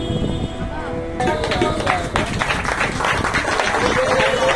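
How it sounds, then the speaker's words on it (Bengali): Applause from an audience at a Rabindra-Nazrul music evening of a music academy during a small felicitation, with busy clapping and crowd murmur building after a brief tonal sound at the start. "জোরে হাততালি আশা করবো"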